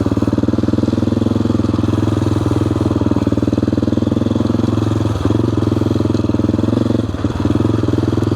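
An AJP PR7 motorcycle cruising steadily in second gear, a loud, close engine drone with a constant pulsing rhythm, easing off briefly twice near the end.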